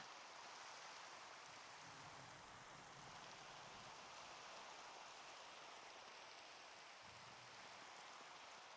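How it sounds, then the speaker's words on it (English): Steady rainfall hissing evenly, a continuous wash of drops on surfaces with no voices, constant and moderately close throughout. "Oh, now it's raining."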